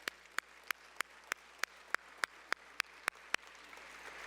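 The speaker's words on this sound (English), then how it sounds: "So another round of applause for Sister Rosalie." At a tribute gala dinner, crisp individual claps ring out close and evenly spaced, about three per second, over a quiet room hum.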